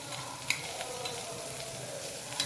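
Ginger garlic paste sautéing with softened onions in a hot pan, a close, continuous sizzle and fry with light stirring scrapes and a couple of brief clinks, no voices.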